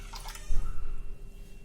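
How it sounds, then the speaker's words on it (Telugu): Tamarind juice poured into a pot for a fish curry, a brief soft liquid splash that swells and then trails off into a low, steady trickle. "ఈ చింతపండు రసాన్ని దీంట్లో పోస్తున్నాను"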